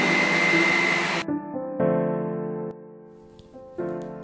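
A hood hair dryer runs with a steady, close motor whir and airflow hum, its level and tone shifting abruptly several times with no talking.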